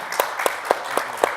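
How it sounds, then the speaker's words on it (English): Claps of thanks for panelists at a 2018 business panel on people versus revenue: five evenly spaced, sharp claps in a slow steady rhythm, close and moderately loud, over faint room noise. "So a big round of applause for them."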